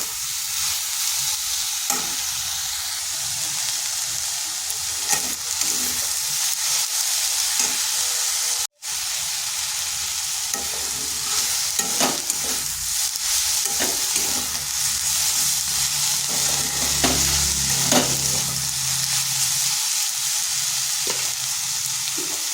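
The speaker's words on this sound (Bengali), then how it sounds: "আঁচটা মিডিয়ামে রেখে করে 2 থেকে 3 মিনিট একটু নেড়ে নিচ্ছি।" Drumstick (moringa) greens frying over medium heat in a pan, a continuous loud sizzle broken by repeated scraping stirs of a spatula, close and steady with no talking.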